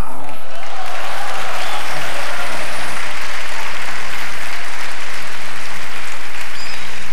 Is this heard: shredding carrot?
no